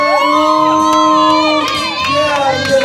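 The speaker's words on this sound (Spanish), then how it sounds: "¡Fuerte los aplausos!" Crowd at a professional Latin BMX championship cheering and shouting loudly, with whoops and bursts of excited voices, continuous and close.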